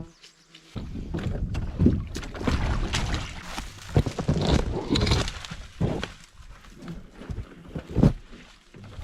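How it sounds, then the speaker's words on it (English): Mosquitoes and other insects buzz and whine close by in Canadian wilderness with thunder approaching, steady droning with swelling passes over about nine seconds, no talking. "mosquitoes. Better get used to it."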